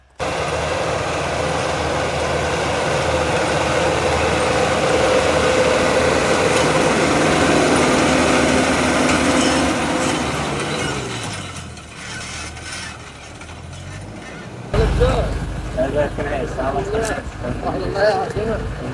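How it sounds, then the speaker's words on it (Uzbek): LOVOL and LS tractors working in a farm field, a steady mechanical engine drone with clattering, ratcheting machinery, loud at first and then easing off, with people talking nearby later on. "mana ikkita traktor ishlashadi"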